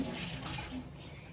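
Excess water being poured out of a pot while mutton pulao is cooked at home. It makes a steady, close splashing and gurgling stream that lasts the whole moment without a break.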